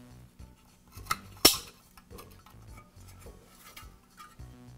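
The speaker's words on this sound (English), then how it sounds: "align the clip on the socket with the hole in the top of the reflector. And I'll snap it in place." A metal clip on a lamp socket snaps into the reflector of a NuTone vent fan heater, with one sharp, close click after a smaller tap and light handling clatter around it.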